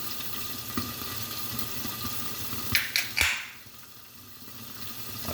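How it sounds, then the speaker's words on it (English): Liquid running from a tap or being poured into a cup, a steady watery hiss with a few sharp clinks of glass or dishware near the end, after which the flow stops and the room goes quiet. "And I'm gonna pour it in here, into this cup"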